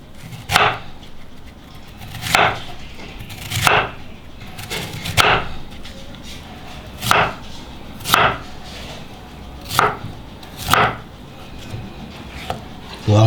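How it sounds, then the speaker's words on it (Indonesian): A knife cuts pear into cubes on a board for an Indonesian iced fruit drink, giving about a dozen crisp chops in an uneven rhythm, close and fairly loud, with no voices. "Untuk buah pirnya kita akan potong kotak-kotak ya."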